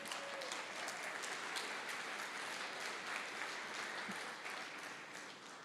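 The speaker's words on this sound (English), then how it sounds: "round of applause for Greentown" An audience at a live podcast event in Boston breaks into applause, a sustained wash of many hands clapping at fairly even strength for several seconds before tapering slightly at the end.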